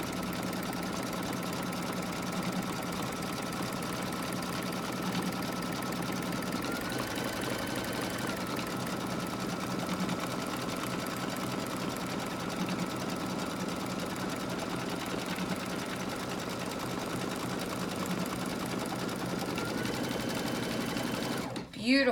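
An embroidery sewing machine stitches a zipper bag panel with a steady, continuous mechanical whir and hum that runs loud and close throughout.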